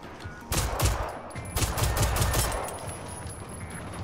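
Video game gunfire in a robot-themed game: a couple of loud rapid-fire bursts in quick succession over a busy background, with no talking.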